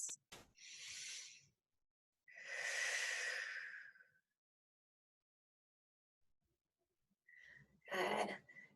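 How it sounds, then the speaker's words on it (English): Breathing during a head, neck and shoulder flexibility exercise class: a few distinct breaths, inhales and exhales, close and fairly loud, separated by silent pauses. "You can inhale to lift,"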